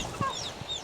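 A couple of short, soft clucks from a chicken, faint against a quiet outdoor background in a rainy rural forest village in Laos near the Vietnam border.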